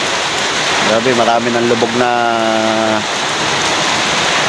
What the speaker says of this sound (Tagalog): lumalakas ang hangin, lumalakas ang ulan, pabulubulusok